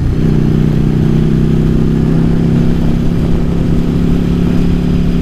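A modified Yamaha Virago XV750 bobber engine rumbles steadily while out for a ride, a loud, continuous low drone with a stable pitch and even loudness throughout.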